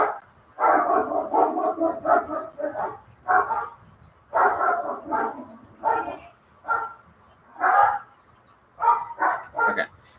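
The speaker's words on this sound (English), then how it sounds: "I'm sorry about the dogs. They're barking because of the mailman." Several dogs bark at a mail carrier in a home, bursts of loud barking and yipping in rapid clusters with short pauses, fairly close.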